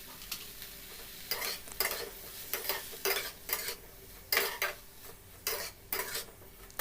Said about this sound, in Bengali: এবার পুরোটা ভালোভাবে আবার নেড়ে নিলাম